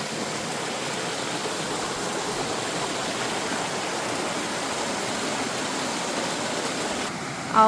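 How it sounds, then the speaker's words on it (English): A small sliding waterfall on North Harper Creek in North Carolina's Pisgah National Forest gives a steady broadband rush of falling water, close and continuous. The roar holds even throughout, with a brief bump in level at the very end. "it's a pretty little sliding waterfall there"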